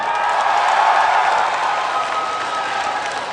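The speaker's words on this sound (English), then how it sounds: "Applaud if you're from California." An audience at a Blizzard event show applauds steadily, a dense wash of clapping from a large crowd that holds for several seconds and tapers slightly.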